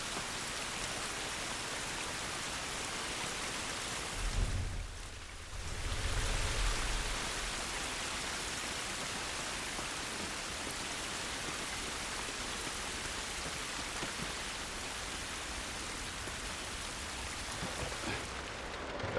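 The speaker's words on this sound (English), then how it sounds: "This rain ain't gonna do us any good." Steady rain from the video game The Last of Us, a dense broadband hiss pouring down continuously for the whole stretch, briefly dipping with a low rumble near the start before returning evenly, with no voices.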